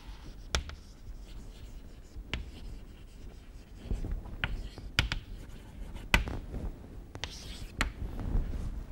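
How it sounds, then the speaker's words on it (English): A pen or chalk writes by hand during a math lecture with soft scratchy strokes and sharp taps scattered irregularly. Quiet room tone sits underneath, and a faint voice can be heard now and then. "Let me write it here."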